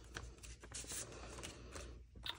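Paper rustling and tearing as a handmade decorated card envelope is opened, a run of soft crinkles and brief rips close up with no talk.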